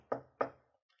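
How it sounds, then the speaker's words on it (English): Knocking at a door during a told folk tale, two firm, close raps about a third of a second apart, followed by quiet. "there was another knock at the door"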